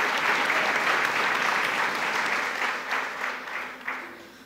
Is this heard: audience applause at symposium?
yes